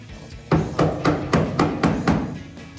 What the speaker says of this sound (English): tap from the hammer.